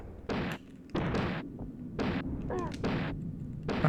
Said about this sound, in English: I got a gun. That's not a gun, that's a goddamn cannon.